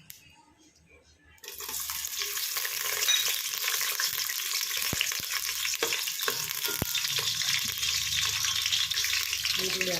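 Onions hit hot oil in a pan for hotel-style keema sambar: after a quiet start, a loud, steady sizzle of frying takes over with occasional stirring clinks.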